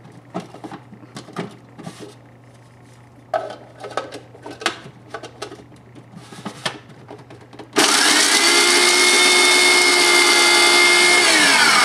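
A food processor crushing Oreo cookies into fine crumbs kicks in after several seconds of scattered clatter and handling, then whirs loud and steady at full speed until the end.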